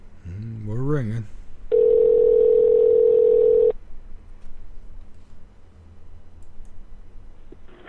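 A telephone on a radio show's call line gives a single steady ring tone lasting about two seconds, following a brief voice at the start, with quiet room hum afterward.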